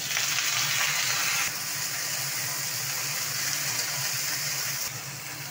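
Pointed gourd (kakrol) goes into a pan of frying potatoes, producing a dense, steady sizzle of hot oil that drops slightly in loudness partway through and again near the end.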